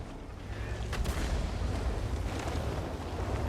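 An artillery shell lands in a tank battle video game, a deep, rumbling boom that rolls on as a continuous low roar with crackling debris over it.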